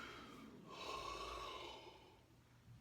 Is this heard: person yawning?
yes